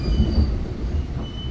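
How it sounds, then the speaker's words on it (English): An Exo commuter train on the Candiac Line pulls out of the station, a steady close rumble of rail cars and wheels, with a thin high wheel squeal running above it and no talk. "I'll get a view of the train departing."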